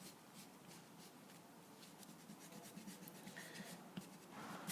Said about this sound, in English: I'm going to erase this over here.